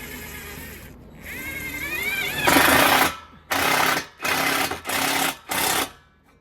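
Screws driven into lumber by a power drill while building a lean-to heat pump shelter outdoors at dusk, four loud whirring bursts with short pauses between, coming after some muffled background noise.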